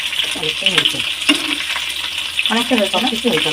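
Steady sizzling of potatoes frying in hot oil, with occasional stirring scrapes and clinks over the constant crackle.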